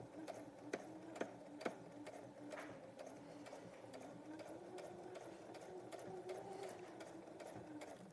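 A sewing machine stitches a bodice in a steady, continuous run with faint ticking clicks throughout, fairly quiet and close, with no talking.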